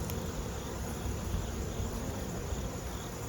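A fall honey bee swarm gives off a steady, dense insect hum, even and continuous, with a faint hiss over it and no voices.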